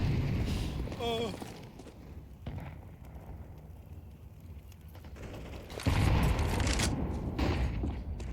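Grenades burst in a Counter-Strike match, with a sharp blast near the start, a quieter stretch, then a louder explosion and rumbling debris later, while a commentator talks over it.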